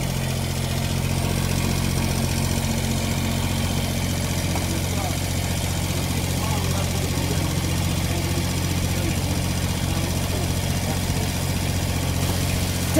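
A used backhoe's diesel engine runs at a steady idle throughout, a constant low rumble with no clear revving, loud and close.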